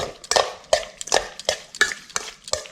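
Fish tossed by hand with salt and ground pepper in a bowl, a steady rhythm of about eight wet, squelching stirs close up, with no talking.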